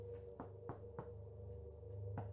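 Knocking sounds in a reportedly haunted house: three sharp, evenly spaced knocks, then a fourth after a pause, heard faintly over a steady low background hum with no talking.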